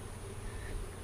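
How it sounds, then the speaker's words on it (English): Honeybees, including winter bees and drones, hum steadily during a post-harvest hive inspection, a close, continuous buzzing drone with no talking over it. "These are winter bees."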